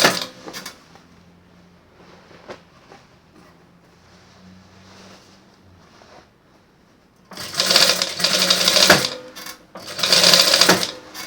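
A sewing machine stitches a tube dress with a deep V back. Soft fabric handling comes first, then two loud, fast whirring stitching runs close by near the end.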